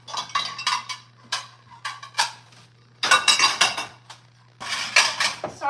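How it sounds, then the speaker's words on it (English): Dishes, pots and cutlery clink and clatter as they are put away in a home kitchen, bursts of sharp metallic and ceramic knocks in clusters separated by brief pauses, close and loud. "Dishes are put away."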